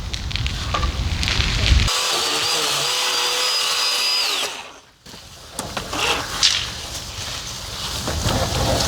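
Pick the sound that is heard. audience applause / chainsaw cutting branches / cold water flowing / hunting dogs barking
chainsaw cutting branches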